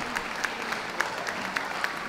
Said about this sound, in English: Could we give those leaving the ring a round of applause